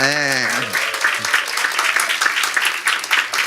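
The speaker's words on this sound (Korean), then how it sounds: "다 같이 뜨겁게 박수를 보내드리겠습니다." A church lecture audience applauds warmly. The clapping swells right after a brief sung or held voice at the start and continues as dense, even clapping.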